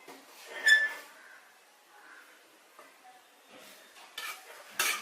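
Spicy masala Maggi noodles are served from a pan into a big bowl: intermittent metal utensil clinks and scrapes, soft stirring sounds and a couple of sharper knocks near the end, close up with no talking.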